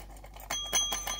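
A small novelty ring bell from a Valentine's range struck several times in quick succession, giving bright, close metallic dings with short ringing tails and no talking.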